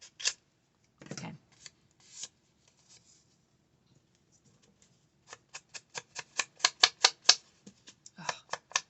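Scissors trim paper for a junk journal, a few scattered snips and then a quick run of sharp, evenly spaced crisp cuts, close and alone.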